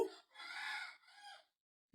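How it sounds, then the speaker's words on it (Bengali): A chicken nearby gives two short, bright calls in quick succession, fairly quiet, followed by silence. "দেখুন এদিকে মুরগি ডাকছে"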